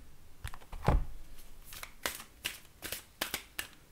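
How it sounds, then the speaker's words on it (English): Tarot cards being shuffled nearby in a series of quick riffling bursts, uneven in rhythm, with no talking. "You gotta shuffle for so much longer than that"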